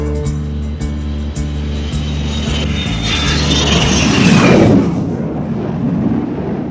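Jet aircraft landing on a carrier deck with a tailhook arrest: a loud, steady roar with sharp rhythmic banging early on, then a surging, rising whoosh peaking around the touchdown before easing into a sustained rumble.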